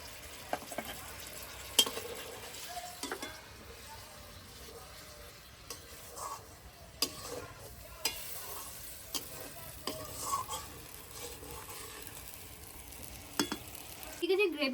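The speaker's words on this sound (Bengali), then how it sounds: "গ্রেভিটা আছে এটা ফোটা শুরু করে দিয়েছে" Katla fish curry gravy with water and slit green chilies bubbles and sizzles steadily in a pan, with scattered clicks and scrapes of stirring over a low, continuous simmer.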